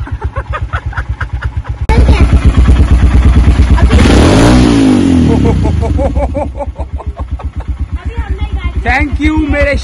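A motorcycle engine, push-started moments before, runs with a loud, close, pulsing idle that swells into a heavy rev before settling back to a throbbing beat, while people talk and call out over it.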